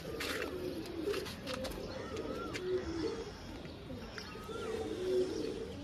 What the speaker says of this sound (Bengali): খুব সুন্দর পায়রা আছে, ডিম বাচ্চা নিয়ে কোনো অসুবিধা হবে না।